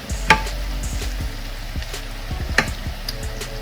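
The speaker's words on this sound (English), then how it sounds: "We're going to add some butter." Butter sizzles in a hot pan along with spinach, a steady close frying hiss broken by a few soft clinks and stirring scrapes.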